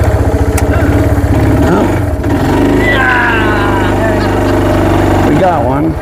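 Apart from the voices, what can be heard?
quad (ATV) engine running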